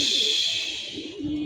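Homer pigeons coo softly on a rainy day, with low, rounded calls rising and falling over a constant hiss in the background.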